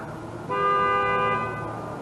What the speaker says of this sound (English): Somebody's car alarm.